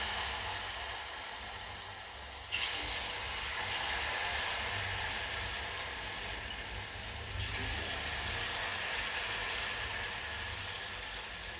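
Vada batter dropped into hot frying oil sizzles as a steady hiss that jumps louder as each spoonful goes in, with no talking.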